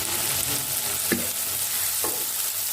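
Onion sizzles steadily as it softens in a pan for a creamy pasta, a dense close frying hiss with a couple of brief stirring scrapes, and no speech.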